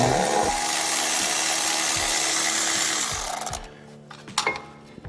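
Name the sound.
removing 10 mm nut of ABS sensor on Chevy Equinox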